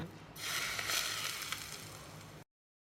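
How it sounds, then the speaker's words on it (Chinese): Hot oil is poured over chopped chili peppers and white sesame seeds in a bowl, giving a bright, close sizzle that bursts up at once, holds steady for about two seconds and then cuts off. "把烧好的热油激发出配料的香味"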